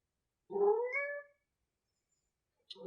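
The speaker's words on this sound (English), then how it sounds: "Right, Kitty? Kitty says yes." A house cat gives one clear, drawn-out meow near the microphone in a quiet room during a restorative yoga session, followed by a faint short sound near the end.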